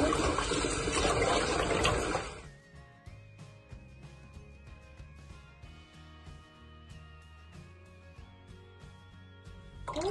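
Running water splashes loudly over raw goat meat for about two seconds, then cuts off, leaving quiet dripping and faint wet handling sounds, with a brief gush returning at the very end.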